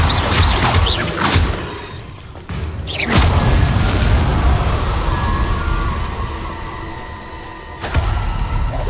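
A Confringo fire spell bursts in Hogwarts Legacy, loud booms and whooshes near the start, another heavy blast around three seconds with a rumbling tail, and a final burst near the end.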